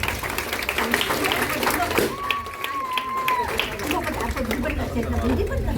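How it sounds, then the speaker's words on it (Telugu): Crowd applauding at a church house-blessing inauguration as a stone plaque is unveiled: scattered clapping and chatter from a gathered congregation run steadily throughout, with a brief tonal whistle partway through. "అందరూ కూడా చప్పట్లు కొడదా."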